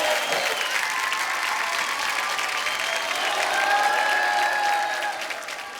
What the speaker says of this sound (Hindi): एक बार सनी के लिए जोरदार तालियां